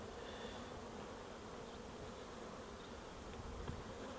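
Angry honeybees swarm and buzz continuously around a beekeeper handling them with a knife, a dense, steady droning hum close by with no one talking.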